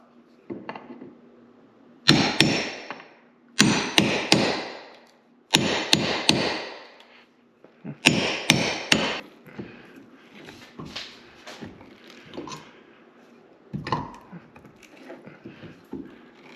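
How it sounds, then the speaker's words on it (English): Nails being pulled and pried from wood during a guest house renovation, several loud close knocks and creaking wrenches in clustered bursts, then quieter scraping and taps. "So I'm gonna try and just pull these two nails"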